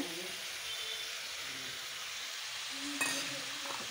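Meat stirred and frying in a pan as turmeric goes in, a soft continuous sizzle with faint scraping, and a brief louder clink or stir near the end.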